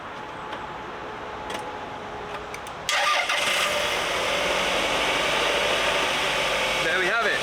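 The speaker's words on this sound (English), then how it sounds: "A starting running car." A car engine cranks and catches after a jump start, a sudden start at about three seconds settling into a steady idle, heard up close.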